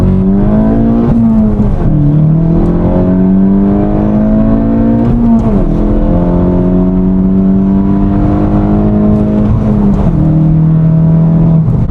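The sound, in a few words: VW GTI with Integrated Engineering sport muffler accelerating, 1st-4th gear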